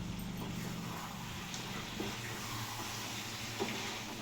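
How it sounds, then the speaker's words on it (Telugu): Chicken curry with a thick gravy simmers in a covered pot, a faint, steady bubbling hiss with soft low burbles throughout. "చూడండి ఉడుకుతుంది మంచిగా."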